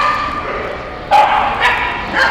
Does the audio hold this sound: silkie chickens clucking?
no